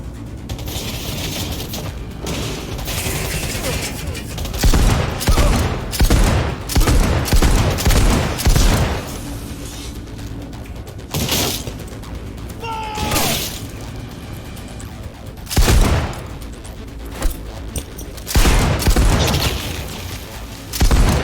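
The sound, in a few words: gunfire in Cyberpunk 2077 video game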